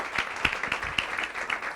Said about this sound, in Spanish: Un aplauso para Martín